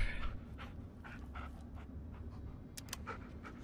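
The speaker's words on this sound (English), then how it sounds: "You did a really good job, Bullet. You're the best. Yeah, good dog" A dog pants quickly and softly in the Blair Witch video game, with rapid breaths over a low background hum throughout.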